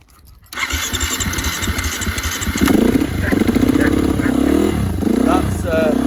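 A cold 2016 KTM 350 EXC-F enduro motorcycle fires up without choke: a brief cranking burst, then the engine catches and settles into a loud, close, uneven idle with a few throttle blips.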